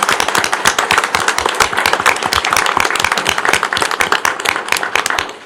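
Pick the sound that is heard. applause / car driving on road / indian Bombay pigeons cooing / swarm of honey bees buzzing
applause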